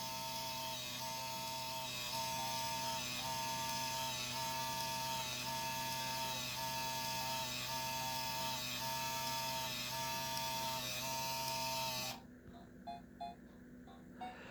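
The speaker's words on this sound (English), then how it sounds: "we're going to hit print. It's now going to transfer that information over here to the printer" Game Boy Pocket Printer printing a Mario picture, a steady whirring thermal-print drone with faint regular ticks running for about twelve seconds before stopping, followed by quiet clicks.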